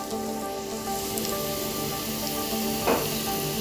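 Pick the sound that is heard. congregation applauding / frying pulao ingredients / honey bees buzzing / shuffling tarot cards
frying pulao ingredients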